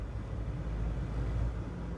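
A converted Mahindra Scorpio Classic is revved from inside its insulated cabin, giving a muffled, steady low engine hum that stays even and fairly quiet for the short stretch with no voices.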